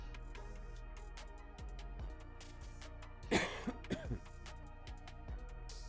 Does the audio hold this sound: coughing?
yes